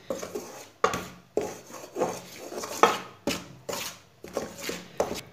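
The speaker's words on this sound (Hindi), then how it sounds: "भून लेंगे इसे ऐसे ही चम्मच चलाते हुए मीडियम आंच पर" A spoon scrapes and stirs gram flour roasting in a pan over medium heat, in repeated rhythmic strokes with short pauses, close and fairly clear, no voices.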